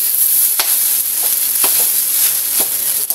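Leftover rice is stir-fried into fried rice in a pan, with a continuous close sizzle and scattered scraping stirs of the spatula.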